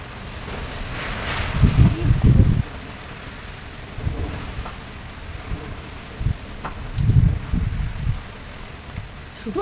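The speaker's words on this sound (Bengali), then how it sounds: "হাওয়া শব্দটা দেখো, কিছু বলতে হবে না, শুধু হাওয়া শব্দটা।" Gusty wind from Cyclone Remal roars outdoors in bursts, with rumbling surges near 2 and 7 seconds over a steady stormy background; no talking is heard.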